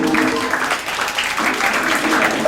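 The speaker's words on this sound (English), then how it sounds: "Please give a round of applause to Master" Steady audience applause at an Afro-Cuban percussion clinic at Milton Academy, a dense, even crackle of many hands clapping that holds throughout, with faint voices mixed in.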